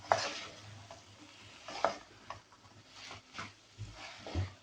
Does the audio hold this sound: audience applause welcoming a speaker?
no